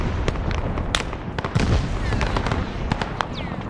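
Mortar explosions in a Vietnam-era war video game, a rapid series of sharp cracking blasts and booms crowding together, loud and close.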